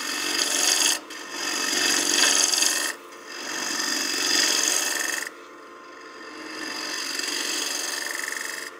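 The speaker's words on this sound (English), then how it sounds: "I'm also gonna bump my lathe speed up now that we have a lot of the bulk out of the way." Wood lathe spinning at about 1400 RPM while a succulent planter is turned, with loud rasping, scraping tool cuts in three long passes separated by brief quieter pauses.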